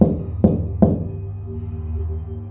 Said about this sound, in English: 3 slow, deliberate knocks on my bedroom door.